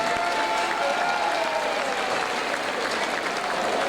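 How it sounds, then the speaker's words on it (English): Steady crowd applause fills the air after a boxing bout between Kian Stearman and Freddie Woodhouse, a dense continuous clapping with no break, moderately loud and heard alone. "Round of applause for Kian and for Freddie."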